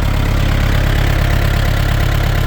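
A Kubota MU4902 tractor engine idles close by, a loud, dense and steady mechanical rumble with an even, slightly knocking pulse throughout.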